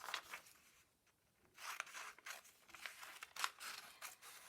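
Scissors cutting paper in a straight line for a 3-D sailboat craft, soft close crunching snips in bursts with a short pause partway through, quiet and alone.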